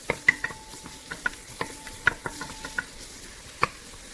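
Onion sauteing in a pan for a Filipino opo squash dish, a soft sizzle broken by a dozen or so sharp taps and scrapes of a spoon stirring against the pan, close and fairly quiet.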